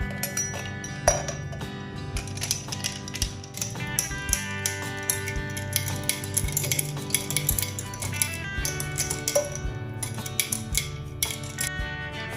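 A spoon stirring iced tea in a glass, with rapid, continuous clinking and scraping against the sides that stays moderately loud throughout.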